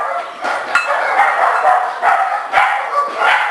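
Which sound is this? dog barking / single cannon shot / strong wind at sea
dog barking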